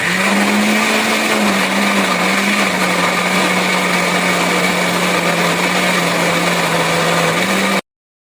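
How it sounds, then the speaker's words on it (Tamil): A mixer grinder grinds pistachio, green chili, garlic, coriander and yogurt into a fine paste, running loud and steady for about eight seconds with a strong motor whine, then stopping abruptly. "அது ஒரு மிக்சி ஜார்ல போட்டு அரைச்சிக்கலாம்"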